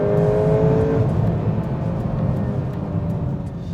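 A 2025 Volkswagen Golf R in Nürburgring mode accelerating hard, its engine note rising loud and close with a strong revving whine that holds steady throughout.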